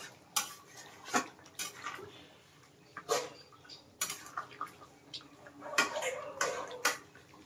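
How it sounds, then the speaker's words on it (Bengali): A spoon clinks and scrapes against a pan while chicken curry with garam masala and yogurt is mixed, giving irregular sharp taps and knocks, fairly close but quiet. "আর খুব সুন্দর করে আমি মিক্স করে দেবো।"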